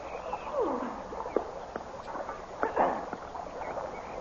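A canoe is paddled on a river as a sound effect in an old 1935 radio drama, with gentle water splashes and a few knocks against the hull, fairly close and soft.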